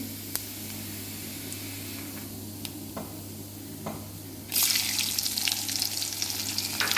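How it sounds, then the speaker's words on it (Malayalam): Cumin seeds hit one and a half tablespoons of hot coconut oil: a quiet low hum with a few faint ticks gives way to a sudden loud burst of spluttering and crackling sizzle that continues to the end. "ഒന്നര ടേബിൾ സ്പൂൺ വെളിച്ചെണ്ണ ഒഴിച്ച് ജീരകം ജീരകം പൊട്ടുന്നുണ്ട്"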